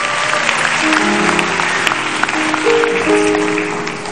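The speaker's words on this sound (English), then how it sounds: "Let's clap our hands for our wonderful friend." Audience at an event clapping to welcome a guest, a dense, steady round of applause that carries on evenly throughout, with faint musical tones underneath.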